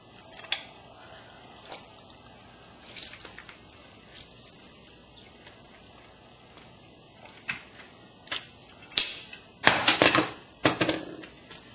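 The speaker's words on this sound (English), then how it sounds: "I've got this handy dandy little squeezer here. It gets all the juice out of the lime." A small hand squeezer presses a lime in a kitchen during pico de gallo prep, giving scattered clicks and light metallic clatter that build into a cluster of sharper squeaky squeezes toward the end.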